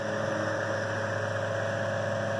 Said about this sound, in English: It's got a touch of what people refer to as the GE whine, but motor actually sounds very nice